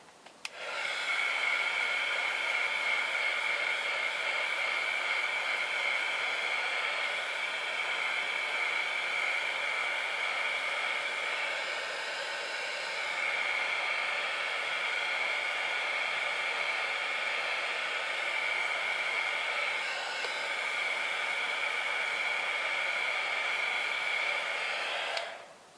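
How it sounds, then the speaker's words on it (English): A hair dryer blows steadily on damp paper for a card-making project, a loud, even whooshing hiss held close for the whole stretch with only slight wavering, no speech over it. "I'm going to try to see if I dry it if it's going to be dry enough to punch"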